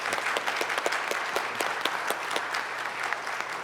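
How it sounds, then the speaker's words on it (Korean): A church congregation at a dedication service applauds to welcome the board chairman, with steady, full crowd clapping that holds at an even level from start to finish. "우리 한번 박수로 한번 환영하십시오."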